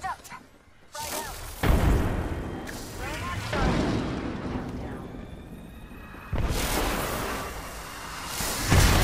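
A frag grenade explodes in the shooter game Apex Legends, a loud booming blast with rumbling low end amid gunfire and combat noise, and a second heavy burst follows a few seconds later.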